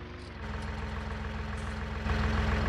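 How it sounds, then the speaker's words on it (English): A small tractor engine idling after being parked, a steady low rumbling drone close by that grows slightly louder partway through, with no voices. "park the little tractor here"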